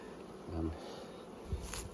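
Honey bees drone quietly around an opened brood box, a low continuous hum with a brief louder swell and a soft knock near the end.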